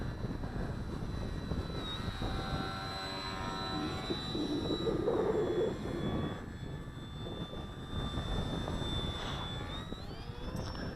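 A Durafly Tundra RC model airplane drones steadily through the air, its electric motor whine sustained and moderately distant, with a brief tonal rise near the end as the throttle changes.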